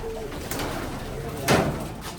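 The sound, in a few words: pigeons cooing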